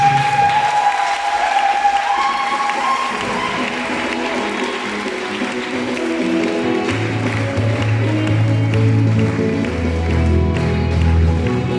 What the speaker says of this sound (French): On peut les acclamer.